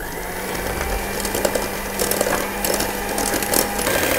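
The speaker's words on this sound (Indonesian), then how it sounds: "sekarang kita akan mixer sampai lembut dan mengembang." An electric hand mixer whips homemade cream for a tiramisu dessert box, giving a steady close mechanical whir with light rattling beaters, without speech.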